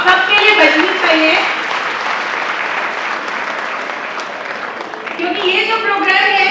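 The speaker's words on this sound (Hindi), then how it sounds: "तो इसके लिए एक जोरदार तालियां आप सबके लिए बजनी चाहिए" A crowd of parents and guests at an evening school talent celebration breaks into loud, sustained applause, with a voice speaking over the start and again as the clapping continues at the end.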